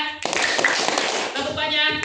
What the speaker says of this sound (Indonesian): Tepuk tangan. Tepuk satu. Tepuk dua.